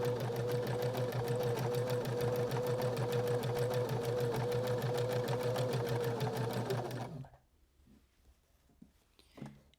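A sewing machine runs a decorative stitch around the beige part of an upcycled shirt, a fast, even, rhythmic whir close by that goes on for about seven seconds, then stops, leaving faint handling noise.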